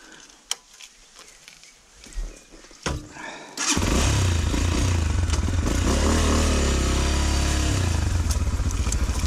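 An Exdrive Tekken 250cc motorcycle in a forest setting: a few scrapes and clunks first, then the engine bursts to life and runs loud and close with steady throttle and revving.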